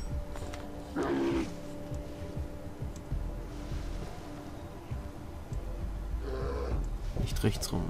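Bear roaring in the video game Far Cry 3, two loud bursts of growling roar spaced apart amid game ambience, with someone talking over parts of it.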